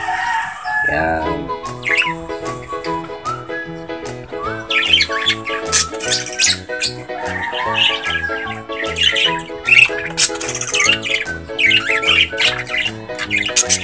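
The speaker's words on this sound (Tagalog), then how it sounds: "sasama na natin itong ating mga lovebirds, itong ating mga parakeet." Pet lovebirds and parakeets in a loft squawk and chirp loudly and constantly, with many overlapping harsh calls and whistles close by and no talking.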